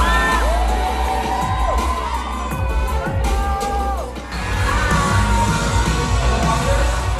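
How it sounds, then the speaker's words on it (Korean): A packed audience of about 800 at a worship dance concert in a school auditorium cheers, whoops and claps continuously, with a loud dense crowd roar and shouting voices throughout. "환호와 박수갈채가 끊이질 않았던 그 감동의 현장을 다녀왔습니다"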